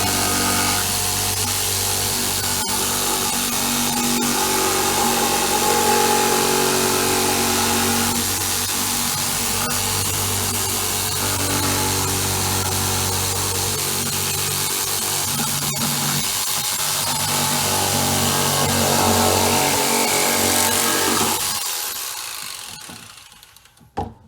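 Body-work power tool cutting a hole, starting at a pre-drilled corner, for a build-it-yourself PowerBox: a loud, steady grinding whine that holds for about twenty seconds before cutting off abruptly.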